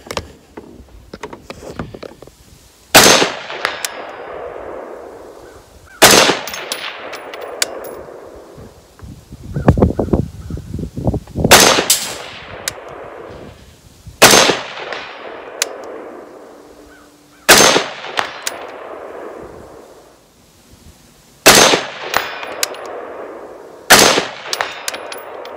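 A Springfield Hellion 5.56 bullpup rifle fires at steel targets on an outdoor range: seven loud, sharp reports spaced a few seconds apart, each followed by a long fading echo, with a quieter burst of clatter between shots.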